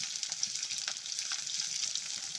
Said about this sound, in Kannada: ಈಗ ಇದೆಲ್ಲ ಫ್ರೈ ಮಾಡ್ಕೊಳ್ಳೋಣ